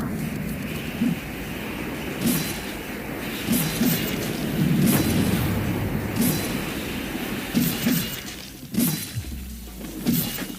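A boss unleashes a power burst in the Roblox game The Depths of Reality: a sustained roaring, crackling rumble with repeated sharp impact cracks and shattering hits, loud and dense throughout.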